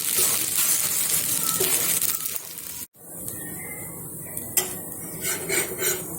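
An oats and millet dosa is turned on a hot pan with a spatula, with metallic scraping and clinking against the pan under a faint sizzle. A brief cut is followed by lighter taps and scrapes.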